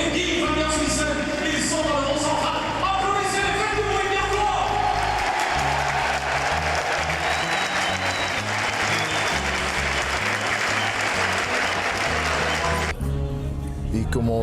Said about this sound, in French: Applaudissez, faites du bruit bien fort!